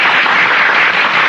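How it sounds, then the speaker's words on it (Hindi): A dense burst of audience applause, loud and continuous with no gaps, many hands clapping together for just over a second. "बजाओ ताली।"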